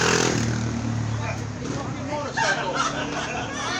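A motorcycle or moped engine drones loudly throughout, its tone rising and falling as it passes outside a live comedy show, while the crowd murmurs underneath.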